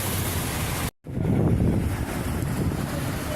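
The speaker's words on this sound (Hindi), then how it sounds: "इसको बोलते हैं बारिश मालूम।" Loud, dense rush of heavy rain and splashing water on a flooded road in Jeddah, Saudi Arabia, broken by a brief dropout, then continuing steadily and close.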